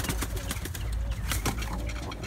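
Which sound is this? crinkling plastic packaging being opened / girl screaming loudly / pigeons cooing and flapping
pigeons cooing and flapping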